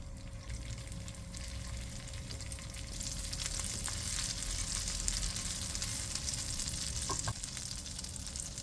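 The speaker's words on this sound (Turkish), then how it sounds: "1-2 dakika kavuralım" A spoonful of tomato paste sizzles in about two tablespoons of oil in a small pan, a steady, faint frying hiss that continues without pause and has occasional soft pops, with no talking.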